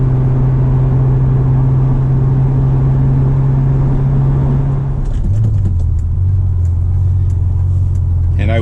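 A Science of Speed twin-turbo first-generation Acura NSX drives along, its steady loud engine drone and road rumble holding throughout, with the engine note dropping as it shifts about five seconds in.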